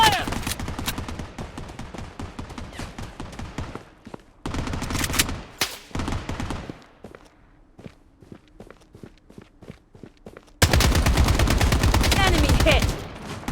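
Gunfire in the mobile shooter Blood Strike: loud bursts of rapid automatic fire in separate volleys, broken by quieter stretches of footsteps and faint single shots, with a final long, loud burst.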